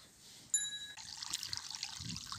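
Water from a solar-powered borewell pump runs in a steady, moderately loud trickling flow on a farm where cows are being fed, with a brief metallic ring near the start.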